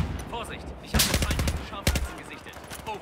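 Gunfire from an M4 rifle in Battlefield 4 multiplayer, two sharp bursts of rapid shots about a second apart over low background game noise.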